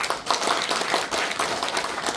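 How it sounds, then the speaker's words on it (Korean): Brief audience applause at a social welfare forum in a lifelong learning center performance hall, a dense burst of many hands clapping at close, steady loudness. "다시 한번 큰 박수 부탁드리겠습니다"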